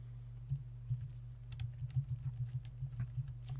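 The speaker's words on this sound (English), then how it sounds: "So I'm selecting there with a keyboard because I find it easier" Keys on a computer keyboard are pressed while working in the PAST 3 statistics software, giving a series of close, soft clicks in irregular bursts, some quick runs and a few separate taps, over a quiet low hum.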